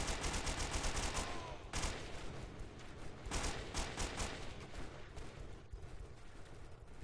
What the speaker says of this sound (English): Getting shot at all directions